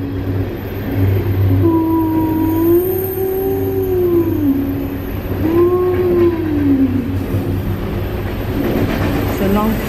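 A long CN freight train rumbles steadily overhead through a tunnel in Kingston, Canada, with wavering whining tones rising and falling over the noise and faint voices in the background.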